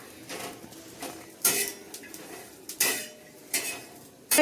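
Dried fish fried in a pan beside brinjal curry, heard as scattered metal clinks and scraping stirs with brief bursts of sizzle, fairly close and moderately loud, with no talking.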